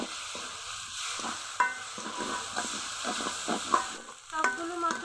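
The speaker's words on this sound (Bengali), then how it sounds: "সবগুলো মশলা ভালো করে কষিয়ে নিব।" Onion, ginger-garlic paste and cumin paste fry for chicken kosha, giving a soft steady sizzle with regular spatula scrapes and a few brief metallic squeaks against the pot, fairly quiet and close, with no speech.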